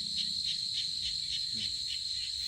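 Frogs croak at night after heavy rain behind a rural garden house: a steady, high-pitched pulsing chorus that repeats evenly throughout, moderately distant and continuous, with no talking.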